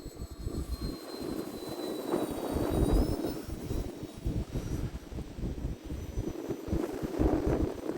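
An E-flite A-10 Thunderbolt II RC jet with twin 64mm electric ducted fans flies past on its maiden flight, a whining fan rush swelling and fading with distance under gusts of wind noise.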